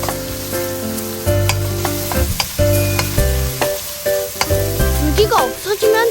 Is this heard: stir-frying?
yes